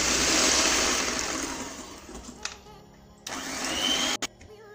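An electric whisk beats cake batter for a white chocolate and raspberry magic cake, starting with a loud steady whir and then dropping to quieter bursts with short stops and restarts.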